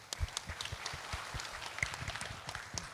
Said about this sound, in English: a very big round of applause for our